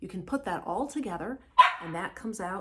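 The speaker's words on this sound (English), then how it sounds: "that was my dog" A pet dog barks once, sharp and fairly close, in a short gap between stretches of someone talking.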